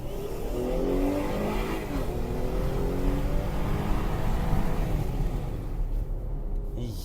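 A Jeep Grand Cherokee engine runs with a steady, loud, continuous drone and rising revs, heard up close throughout, with a hiss near the end.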